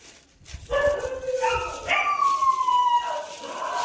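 Stray dogs packed throughout a building, howling and baying together in drawn-out, wavering cries with some yips, loud and close with echo.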